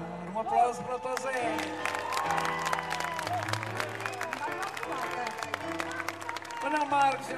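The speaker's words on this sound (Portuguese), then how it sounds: "Um aplauso para o Tosé." Audience applause and cheering for a trumpet player in a band at a live concert, a steady crowd of clapping with some whoops mixed under ongoing music and voices.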